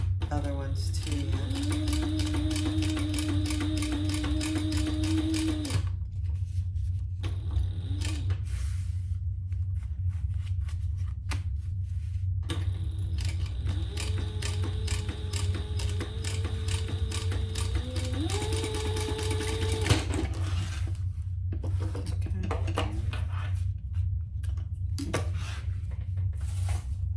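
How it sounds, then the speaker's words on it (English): Sewing machine stitching a retro-style sling bag, running in steady mechanical bursts of rapid rhythmic clatter, pausing briefly and starting again, with a constant hum underneath. "Let me do one more stitch here."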